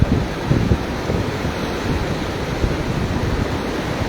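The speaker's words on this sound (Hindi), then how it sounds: "अज का पानी अज का रेला" Rushing floodwater torrent after a night of heavy rain in the Koh-e-Suleman range near Taunsa Sharif, pouring through Tal Sanghar toward the Indus; a loud, steady, close roar with constant turbulent churning and no voices.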